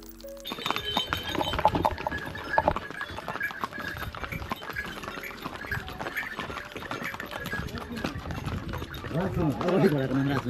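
Horse hooves clip-clop in an uneven rhythm during a downhill trail ride at Kanyam, Ilam, heard close and steady for most of the span, mixed with a faint jingle and with people talking throughout.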